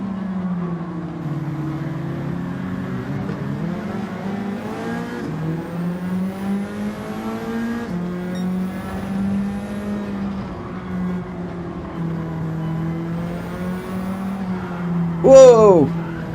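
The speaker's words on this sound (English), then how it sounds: "Got a car going around the outside" A Gran Turismo 7 race car engine drones steadily, pitch rising and falling through gear changes while another car passes on the outside, with a brief sharp squeal near the end; a voice talks over it.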